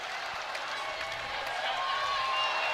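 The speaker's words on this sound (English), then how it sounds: "Crowd of Matthew Knight once again on their feet. Cheering on their team" Arena crowd at a Maryland at Oregon Ducks volleyball match cheering and applauding: a steady wash of clapping and shouting throughout, with talk in the foreground.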